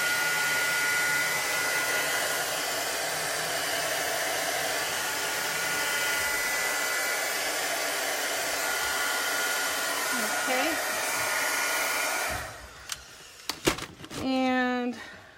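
A hair dryer blows steadily and loudly for about twelve seconds, drying chalk paste on a chalk transfer stencil, then cuts off, followed by a few light clicks and handling sounds.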